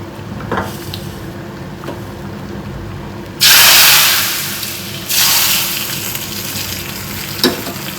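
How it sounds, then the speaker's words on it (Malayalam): Curry leaf tempering poured into a pot of bitter gourd dal curry gives a loud, sudden sizzle that fades, then a second burst of hissing frying, with faint stirring clinks around it. "താളിച്ചത് നമുക്കിങ്ങോട്ട് ഒഴിച്ചു കൊടുക്കാം"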